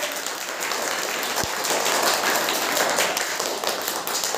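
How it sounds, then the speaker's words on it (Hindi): Children clapping together in a classroom, a dense continuous patter of many small hands at moderate volume, with one sharp thump partway through. "ताली बजाइए।"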